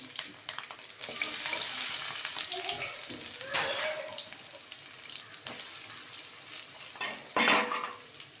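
Garlic and onion sizzle in a pan while a dried-shark thokku is being cooked, with steady frying hiss under occasional stirring and scraping clinks of a utensil against the pan.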